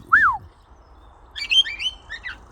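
Pet birds call back in answer to a whistle: a single rising-falling whistled note near the start, then a second later a cluster of several bright chirps and tweets from the birds, moderately near, over quiet outdoor background.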